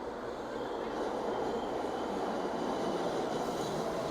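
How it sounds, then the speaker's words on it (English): New York City subway W train arriving, a steady loud rumble of wheels on rails with a faint metallic squeal, continuous and close, with no talking. "here comes the subway train"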